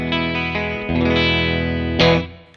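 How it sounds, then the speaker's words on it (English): Stratocaster on its bridge single-coil pickup with a clean tone, a few ringing notes and chords struck close up, bright and sustained, with no voice over them. "My bridge, my clean tone on my bridge sounds like this."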